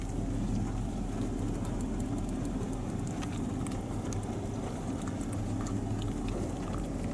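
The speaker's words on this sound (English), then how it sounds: "Just kind of sprinkling right now." Light rain patters steadily at a farm while corn is being loaded and hauled, a soft continuous sprinkle over a low rumbling background with no one talking.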